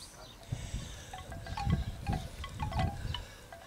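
Wind gusts buffet the microphone outdoors beside a table with a flame, rumbling loud and close in uneven bursts that swell and fade over several seconds.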